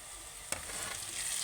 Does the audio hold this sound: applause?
no